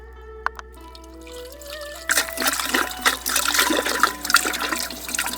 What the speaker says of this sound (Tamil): இப்போ தண்ணி ஊற்ற போகிறோம்.